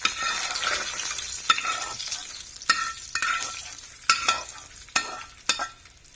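Ingredients for a raw tomato chutney fry in a hot pan, giving a steady close sizzle broken by a series of sharp stirring scrapes and taps, with no talking.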